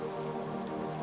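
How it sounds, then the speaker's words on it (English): Steady rain patters outside against window panes, a soft, even, continuous wash with no voices over it. "Outside, the rain continues its quiet murmur"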